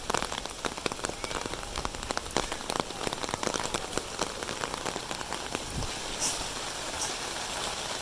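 Steady heavy rain pours down on a surface at midnight during a sudden storm, with dense pattering drops close by and continuous throughout, no talking.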